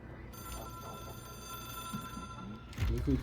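Hotline telephone ringing in the video game Control, a steady electronic ring with sustained tonal harmonics that holds throughout, with a low murmur underneath and a louder thump near the end.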